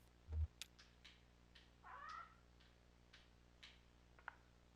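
A cat meows in the video game Kentucky Route Zero, a short rising cry standing out clearly against a quiet background, with a few faint clicks and ticks around it.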